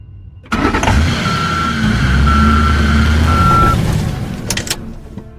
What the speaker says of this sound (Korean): 형은 시동을 다시 켜봤지만 털털거리는 소리만 날 뿐